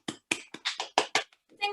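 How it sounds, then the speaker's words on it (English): Several people in an online cooking session clap into their microphones, about eight sharp, separate claps at an irregular rhythm with short gaps between them, then a brief voice at the end. "take yourself off mute and give her a good old clap"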